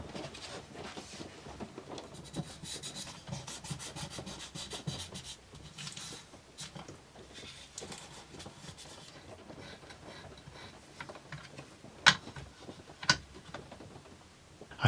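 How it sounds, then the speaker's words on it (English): Waxed MDF plate surface being rubbed down by hand, a steady scratchy friction running throughout with a couple of sharp knocks near the end, close and fairly quiet. "The surface is then rubbed down and waxed to ensure a smooth movement of the stylus."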